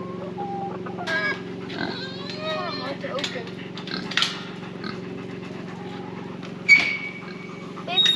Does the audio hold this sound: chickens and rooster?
yes